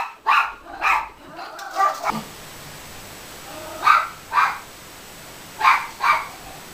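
Dogs bark in short sharp pairs, loud and close, with a few quick yips between, in repeated bursts separated by brief pauses of quiet.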